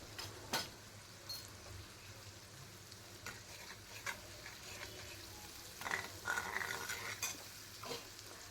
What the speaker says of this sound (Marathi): वाटण परतवून झालं त्याच्यामध्ये हिंग, हळद टाकून घ्यायची आहे आणि ते परत थोडा वेळ परतवायचं आहे